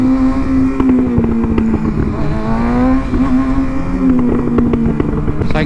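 A 2019 Kawasaki ZX-6R motorcycle accelerating hard with a loud, steady engine howl that rises and falls through the revs, heard close up.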